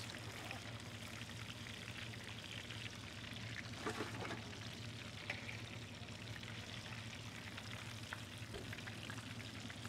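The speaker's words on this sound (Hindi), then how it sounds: "इस तरीके से तमाम पैटीज़ को हमने फ्राई कर लेना है" Chicken box patties deep frying in hot oil, a steady dense sizzle and crackle that continues throughout at moderate level, with a few louder bubbling bursts partway through and no talking.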